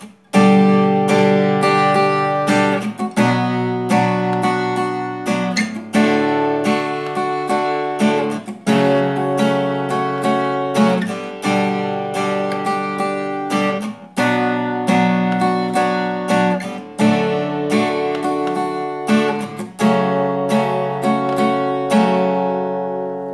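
An acoustic guitar is strummed in a steady rhythm, ringing chords changing every few seconds through a repeating four-chord progression, close and clear with no voices.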